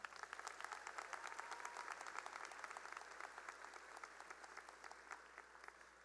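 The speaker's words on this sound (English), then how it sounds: "I think you should all give them a round of applause right now." A high school graduation crowd applauds with sustained, even clapping that sounds distant and faint throughout.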